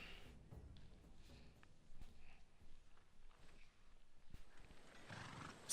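A horse in the video game Assassin's Creed Odyssey whinnies faintly while its hooves clip-clop softly in the background, all quiet and somewhat distant.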